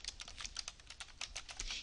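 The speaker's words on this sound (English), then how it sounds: "And here I'm typing in performance improvement," Rapid, steady keystrokes on a computer keyboard as a search query is typed, quiet and close with no talking.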